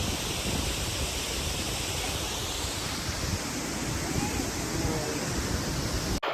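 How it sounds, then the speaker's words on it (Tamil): Athirappilly waterfall in Kerala roars in a dense, unbroken rush of falling water, loud and close. The wash stays steady until a brief cut at the very end. "இங்கே கேரளா அதிரப்பள்ளி ஃபால்ஸு வந்தாச்சு மக்களே. ஃபைனலாக வாட்டர் ஃபால்ஸு."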